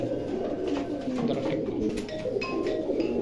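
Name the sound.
Pakistani pigeons cooing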